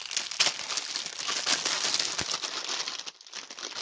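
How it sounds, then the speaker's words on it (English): Plastic packaging of a pre-stamped cross stitch kit crinkles steadily and close, continuous rustling and crackling with no pause and no talking. "They'll be crinkling for a moment."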